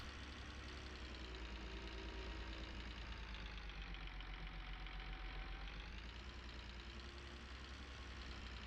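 A small, fairly heavy tractor engine hums steadily while pulling a non-reversible plow across a field in Farming Simulator 19, a constant mid-low drone with slight variation in load and no talk.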